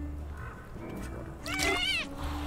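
A video game cat lets out a clear, high meow in a short rising and falling call, heard over a steady low hum of game background sound.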